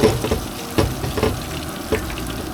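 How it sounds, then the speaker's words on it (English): Shrimp frying crispy in a pan for shrimp and grits, a continuous crackling sizzle broken by several louder pops and spatters, close and unaccompanied by talk. "First batch of shrimp, fried crispy."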